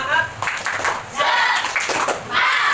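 A classroom of students claps together in a quick rhythmic spirit-clap pattern, made of short bursts of hand claps with brief gaps between them, with some voices mixed in.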